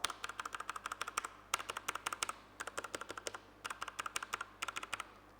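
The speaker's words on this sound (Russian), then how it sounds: "Традиционно демонстрирую звук кнопок. Вот так клавиатура будет звучать у вас." Typing on a COUGAR Attack X3 RGB Speedy mechanical gaming keyboard with Cherry MX Speed switches: rapid bursts of crisp, close keystrokes in three quick runs separated by brief pauses, with no talking.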